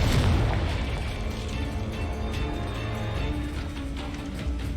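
Spell explosions from Bombarda and Confringo in the video game Hogwarts Legacy boom heavily at the start, then a rumbling, crackling blast wash continues with scattered debris pops.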